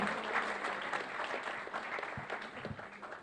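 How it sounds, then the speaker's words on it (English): Audience at a product launch for a property network group in Brisbane, giving a sustained round of applause, dense and fairly loud, holding steady then slowly easing off. "another round of applause for Rob"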